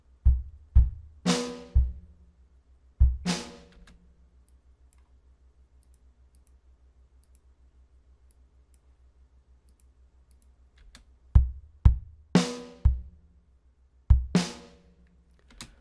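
MIDI percussion playback with a heavy attack: sharp, punchy hits in short rhythmic bursts, a quiet gap with faint ticking in the middle, then the pattern returns.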